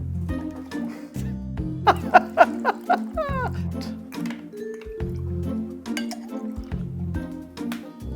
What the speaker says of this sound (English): now what we're gonna do is we're going to add some Alpine Blue Vodka